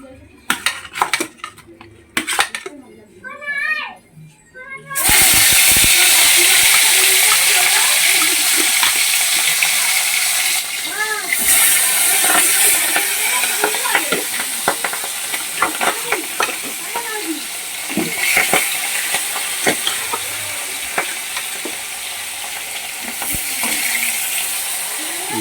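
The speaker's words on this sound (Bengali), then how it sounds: "মাছটা ভাজা বসিয়ে দিলাম" Fish hits hot oil in a home kitchen and sizzles loudly and steadily, with utensils clinking and stirring against the pan. A voice speaks briefly at the start, before the frying begins.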